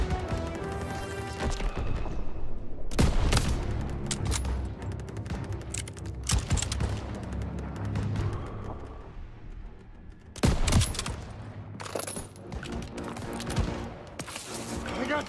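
Gunfire in the World War II shooter Call of Duty WW2, loud bursts of rifle and machine-gun fire with crashes and booms, mixed with shouted battlefield voices.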